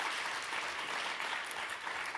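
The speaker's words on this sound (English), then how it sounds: "Clap for that." An audience gives brief, even applause at a stage talk. The clapping is a quiet, diffuse wash with no voices over it.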